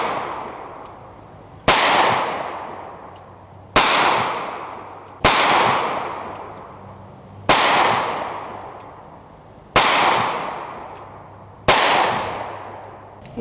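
Six loud, sharp shots from a Zastava M57 Tokarev pistol firing 7.62x25 rounds, spaced about two seconds apart, each a hard crack followed by a long echoing decay outdoors.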